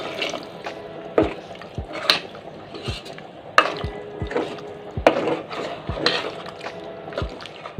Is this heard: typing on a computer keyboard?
no